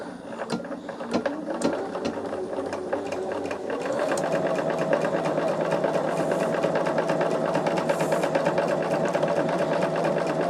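A sewing machine runs nonstop as it sews corner squares onto quilt blocks, a dense, even mechanical whir that grows slightly louder partway through and stays close with no talking.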